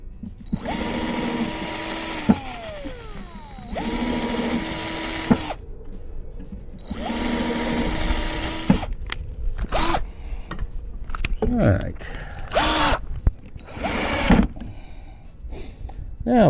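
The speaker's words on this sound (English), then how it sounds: "when I drill the rest of the holes" A power drill whirs in three long bursts, drilling holes in wood for a top bar swarm box, with steady pitch and brief pauses, followed by shorter clattering tool noises and handling sounds nearby.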